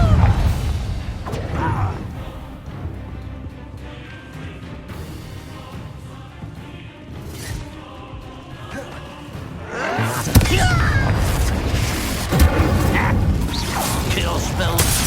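A Confringo blasting spell fires in Hogwarts Legacy, with a sharp burst about two-thirds through that lifts a busy bed of thuds and mechanical game noise. A voice talks over parts of it.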